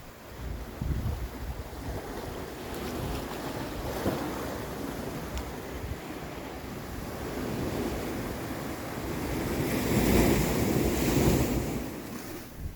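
Pacific Ocean waves crash and wash against a beach below a cliffside walkway, a steady roaring surf that swells louder toward the end, with wind buffeting the microphone throughout.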